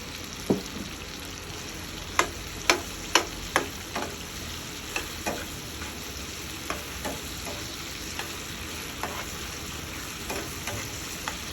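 Pork fries with bagoong shrimp paste in a pan, a steady sizzling hiss with a few sharp spoon clacks early on, then softer, sparser stirring taps.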